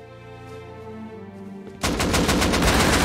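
Machine gun fire in the survival video game Rust, a sudden burst of rapid, loud, close shots after a quieter stretch of game ambience, continuing to the end.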